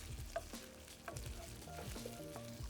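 Ground beef for Thai larb fries in a hot pan, a faint steady sizzle with soft clinks and scraping of stirring.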